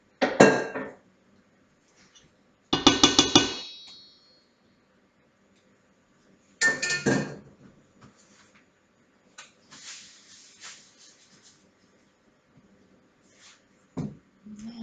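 Metal utensil scraping and clinking against a big mixing bowl while food is stirred together, coming in three loud bursts of a second or so, then fainter scattered scrapes and a final clink, with no voices.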